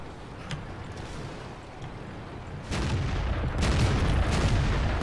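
A tank destroyer's gun in World of Tanks, the SU-152 firing HEAT rounds, heard as a heavy boom that swells into a loud rumbling roar over steady battle ambience, with no talking.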